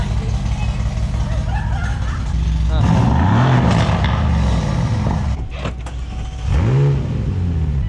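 A McLaren 600LT, earlier showing an engine fault, fires up and revs in short bursts with a couple of rising and falling blips, heard from nearby beneath people talking throughout.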